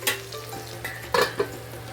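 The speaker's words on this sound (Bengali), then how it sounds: "ভালো করে ফ্রাই করে নিতে হবে এভাবে করে ঢাকনাটা লাগিয়ে দিলাম" Pomfret fish frying in oil in a covered pan, a steady sizzle with a few brief clinks and scrapes of a utensil against the pan.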